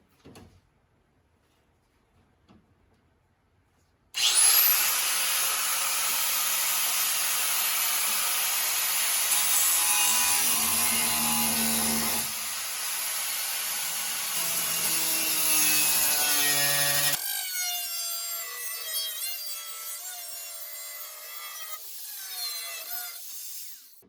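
A car frame's rocker panel is cut into with a loud, steady, high-pitched whine that runs nonstop for about thirteen seconds after a short quiet start, then shifts into a rougher, fluttering grind.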